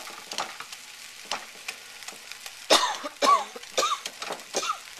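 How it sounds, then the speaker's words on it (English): Gravy for country fried steak being whisked and beaten in a pan to knock out lumps, a series of quick scraping, stirring strokes with soft sizzling underneath, the strokes growing louder and more forceful toward the end. "you want to whack down the lumps"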